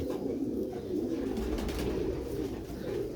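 Record-holding pigeons of an original pearl breed coo in a steady, low murmuring drone that continues without a break, close by and moderately loud, with no talking over it.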